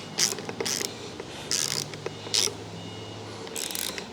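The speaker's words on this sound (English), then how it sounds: "Wrench underneath. And tighten it down." A ratchet wrench tightens 13 mm light bar mounting bolts on a Polaris Ranger, giving several short bursts of clicking, close and crisp, separated by brief pauses over a low background hum.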